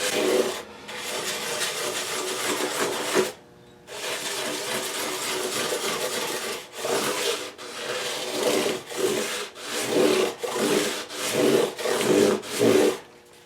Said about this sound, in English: Now we follow up with some cloth back 320 grit, and that's just taking that sharp tip off the top diameter of the crown.